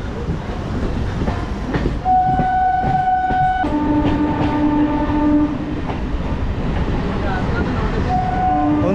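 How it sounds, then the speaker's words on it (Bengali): A Majerhat–Barasat local train pulls out of Princep Ghat station in Kolkata with a continuous rumble and clatter of wheels on rails, broken by two long, loud horn blasts and a shorter toot near the end. "প্রিন্সেপ ঘাট থেকে ট্রেন অলরেডি ছেড়ে দিয়েছে"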